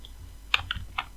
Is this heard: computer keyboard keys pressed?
yes